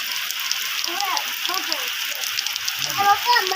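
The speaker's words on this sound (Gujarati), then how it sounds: "ચોપટ વરસાદ હો ભાઈ" Heavy rain pours down in a village, a constant wash of hiss and patter with some faint splashes and distant murmur beneath it.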